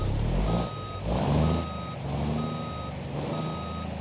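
A truck's reversing alarm in BeamNG.drive beeps in a steady, evenly spaced series over a low, continuous engine rumble.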